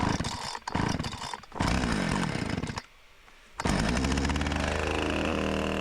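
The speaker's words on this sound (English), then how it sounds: "back to the chainsaw. Cold start. Rancher 455." A Husqvarna Rancher 455 chainsaw cold-starting: loud, uneven engine bursts, a brief dropout as it stalls, then the motor catches and runs steadily with a loud, close buzz.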